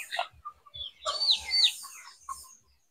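Chickens in a coop cluck and squawk close by, several short calls and a louder rising cackle in the middle, with soft low thumps between them.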